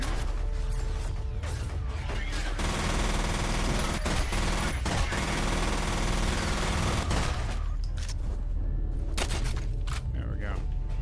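Video game gunfire rattling in rapid bursts amid mechanical clatter, dense and loud through most of the stretch before thinning out toward the end, with talking mixed in.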